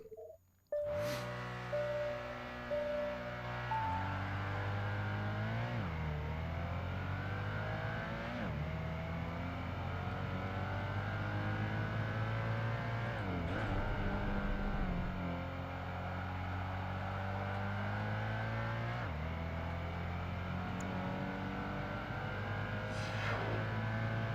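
Porsche Boxster engine in the racing game Project Gotham Racing 2, revving continuously and climbing through repeated gear shifts with brief dips between, loud and steady for the whole stretch without talk.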